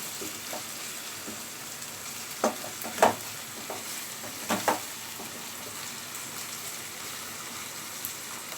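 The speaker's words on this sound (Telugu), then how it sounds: "ఇప్పుడు దీనిని మనం బాగా ఫ్రై చేసుకుందాము. మరి మాడిపోకుండా కలర్ చేంజ్ అయ్యేంత వరకు ఫ్రై చేసుకుందాము." Food fries in a pan, cooked until it changes colour without burning, with a steady sizzle and a few distinct clicks of stirring scattered through, close and alone with no talk.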